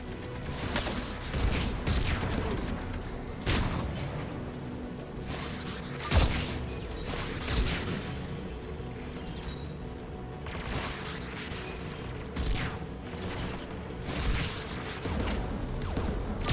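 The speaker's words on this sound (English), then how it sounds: "AA guns ahead." Anti-aircraft guns firing in Mass Effect 3 make a steady barrage of repeated heavy bursts and thuds over continuous game ambience, moderately loud and somewhat distant, with occasional sharper booms.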